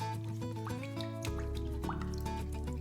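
Spoon stirring a lemon and cardamom cake syrup with vanilla bean paste in a pan, giving soft wet drips and liquid clinks in short irregular bursts over a steady low hum, close by with no voices.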